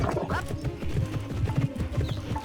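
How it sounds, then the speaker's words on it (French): Horse hooves clip-clop in a quick, steady rhythm in the horse riding game Alexandra Ledermann Le Haras de la Vallée, close and continuous with faint game sounds behind. "on va faire des balades à cheval et tout"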